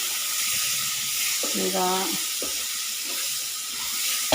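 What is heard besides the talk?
tempering sizzling in pan for tamarind leaf chutney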